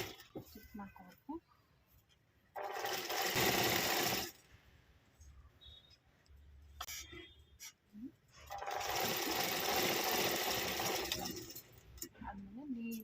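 A sewing machine stitches a double-folded frill in two long, even bursts of whirring, with quiet pauses and handling noises between them.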